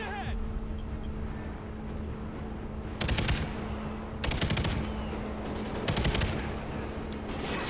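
Gunfire and explosions in the video game Call of Duty: Ghosts, with three loud bursts of rapid automatic fire rising over a steady combat din and a low background hum.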